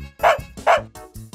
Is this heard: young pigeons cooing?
no